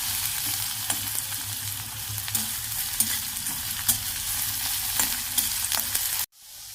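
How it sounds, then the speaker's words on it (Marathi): Chutney with chilies sautés in a pan until it turns reddish, a close, steady sizzle punctuated by repeated scraping stirs of a spatula, cutting off abruptly near the end. "मस्त लालसर रंगावर परतून घेऊ"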